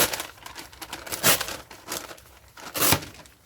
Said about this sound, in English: And then tear.